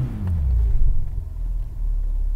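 Low, steady engine rumble from an idling BMW M5 V10 Touring, loud and close, with a slight swell partway through and no talk over it.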